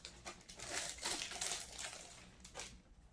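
Quiet, close crinkling of the plastic bag around a Sega Genesis Mini console, a series of soft rustles and crackles over a few seconds.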